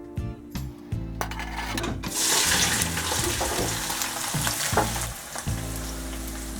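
Hot palm oil sizzles and fries steadily in a pan, a loud broad hiss that swells after the first two seconds with occasional clinks and stirring, no voices.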